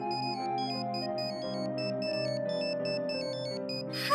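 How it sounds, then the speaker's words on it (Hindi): A phone ringtone for an incoming call, a bright electronic melody of repeating beeping notes over sustained tones, clear and close, ending with a short burst of noise. "फोन उठा, शिव का फोन है।"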